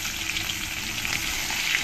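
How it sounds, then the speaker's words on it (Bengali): Koi fish fry in oil over a medium flame, making a dense, close, unbroken sizzle with no voices. "আর মিডিয়াম জালে আমি আস্তে আস্তে মাছগুলোকে ভালো করে ভেজে নেব।"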